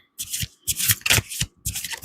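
A deck of tarot-style reading cards being shuffled by hand in three separate bursts of riffling and rubbing, close and fairly loud, with brief pauses between them and no talking.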